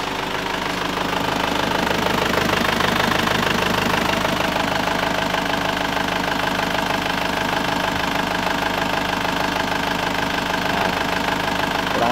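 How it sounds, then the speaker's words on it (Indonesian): A Panther diesel engine runs steadily with a continuous knocking, rumbling idle, close and loud throughout with no talking. "Pokoknya musiknya suara diesel biasa ya guys."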